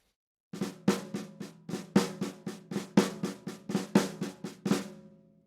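A drummer slowly plays the Flamacue rudiment across snare and tom-toms, about fifteen crisp flammed strokes in a steady pulse with accented hits, close and alone, ringing drum tones decaying between strokes.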